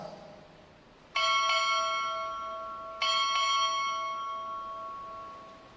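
Four clear strikes of a ship's bell in two pairs at a Navy ROTC graduation ceremony, each pair struck in quick succession, the metallic tone lingering and fading between them.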